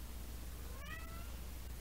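A cat gives a single short, faint meow once, over a low steady background hum in a quiet indoor painting setting.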